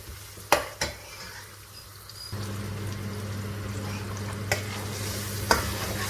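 Onions frying with turmeric powder in a pan give a steady sizzle that swells after a couple of seconds, broken by a few sharp scrapes and clinks of stirring, with no voices.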